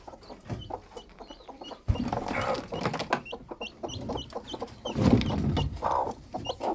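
A broody village hen clucks and grumbles repeatedly while being lifted off her nest, her calls close and fairly loud amid rustling and handling noises, with chirps from small chicks scattered through the background.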